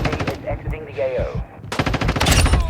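M4 gunfire in the mobile shooter Warzone Mobile: rapid, loud automatic bursts with a short lull mid-clip, and a voice briefly heard between shots.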